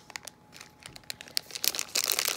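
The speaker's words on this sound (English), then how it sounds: "So let's get this open, see what's in it." A 50-gram plastic package of cola bottle gummies crinkles and crumples up close as it is worked open, the rustling growing louder and denser toward the end.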